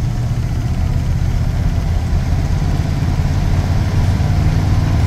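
A Ford F150 Bullnose pickup engine idles steadily, its deep low rumble loud and close, held up with a little throttle throughout with no talking.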